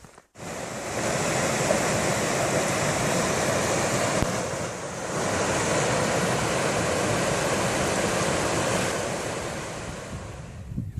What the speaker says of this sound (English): There's a really pretty stream just slowly winding its way through there